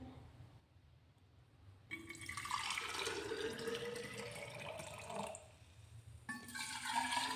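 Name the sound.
pouring hot water into a thermos flask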